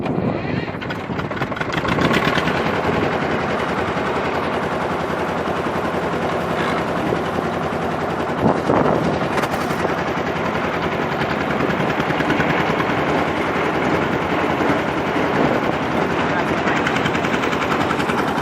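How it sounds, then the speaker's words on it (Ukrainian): A T-25 tractor engine starts on a new starter and settles into a loud, steady diesel running sound that fills the whole stretch, close by, with no talk over it. "Заводимо Т-25, продовжуємо тюкувати."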